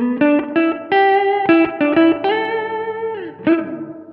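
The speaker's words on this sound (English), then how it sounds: "it's so much fun to hit this neck pickup on and get these really warm tones" Electric guitar notes and chords from an Ibanez RG550 on the neck pickup, with a warm, rounded tone and light effects, played alone with short pauses and sustained ringing.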